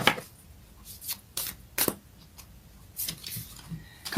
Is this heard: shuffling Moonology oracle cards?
yes